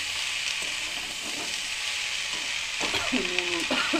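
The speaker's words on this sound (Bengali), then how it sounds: "এটা নেড়ে চেড়ে জল ছাড়বে" Food sizzles and fries steadily in a pan during traditional home cooking, with scraping stir strokes growing more distinct toward the end; no talking.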